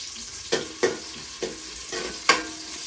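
Green chillies frying in hot oil in a pan, added after chopped onions for a Godavari fish curry, a steady soft sizzle broken by a few sharp crackling pops, close up and without speech.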